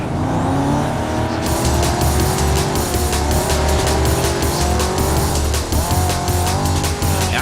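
Race cars in the Need for Speed: Carbon video game roar close by, engines revving and shifting as tires squeal and skid loudly and continuously, with sharp rattling bursts layered over the racing.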